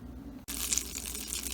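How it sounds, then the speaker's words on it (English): Butter sizzling in a hot pan for one-pan French toast: a sudden onset of bright, crackling hiss that stays steady and close after a short quiet moment, with no talking. "Now the sizzling is good."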